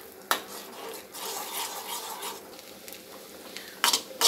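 Beaten egg being stirred into fried rice in a pan, soft scraping and shuffling with a faint sizzle, punctuated by a few sharp utensil knocks against the pan.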